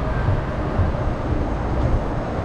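Train in Amsterdam, a steady loud low rumble of rolling rail cars heard from close by, continuous and without talk.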